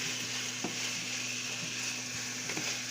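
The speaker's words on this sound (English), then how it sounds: "We're going to go ahead and get this cooked down first, sauteed it." Chicken sautéing and browning over high heat in a pan for chicken alfredo, a steady close sizzle with a faint hum and occasional soft clicks of stirring.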